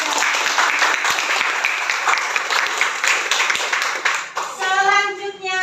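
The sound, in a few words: class applause for students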